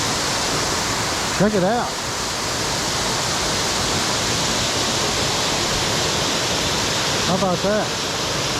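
Waterfall in Frozen Head State Park, a loud, close, steady broadband rush of falling water throughout, with someone speaking briefly twice over it.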